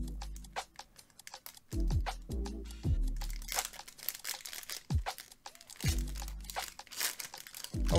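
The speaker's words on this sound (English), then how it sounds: "Always trying to find new ways to open the pack so I don't have to use the snips" A Pokémon card pack wrapper is worked open by hand, with close, repeated crinkling and crunching of foil plastic in uneven bursts, mixed with soft low thumps and a brief tearing rasp.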